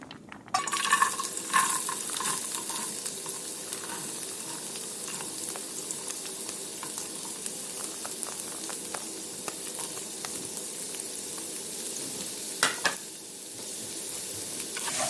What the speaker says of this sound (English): So once my oil is warm or heated, I'm going to go ahead and first put my carrots.